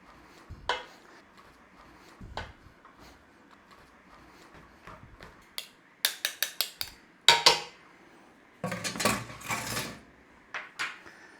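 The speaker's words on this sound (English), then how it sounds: "I'm using a potato masher. And we're just going to give that a mashing through" A potato masher works through soft sweet potatoes in a bowl, giving soft thuds and clacking knocks in irregular bursts, some in quick runs of four or five, with quieter gaps between.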